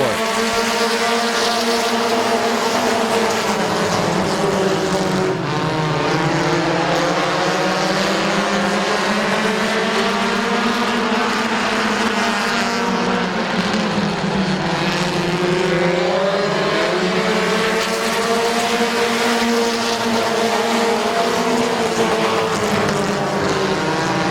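Compact race cars roar around Midvale Speedway during a 30-lap feature, engines droning loudly and continuously as the pitch rises and falls with the pack passing by.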